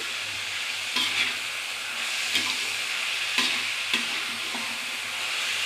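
Rice and lentils frying with cardamom and cinnamon in a pan, a steady close sizzle with periodic stirring scrapes every second or so.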